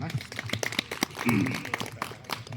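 Applause for a speaker at a truckers' annual meeting, scattered hand claps in an irregular patter, moderately near, swelling briefly midway, mixed with voices talking.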